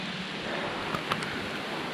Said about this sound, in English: it's now raining about 12 inches an hour